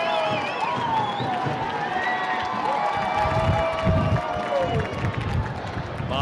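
Soccer stadium crowd at a U.S. Open Cup match between Real Salt Lake and Seattle Sounders stirring in a steady, distant roar with scattered whistles and jeers, under a commentator's voice.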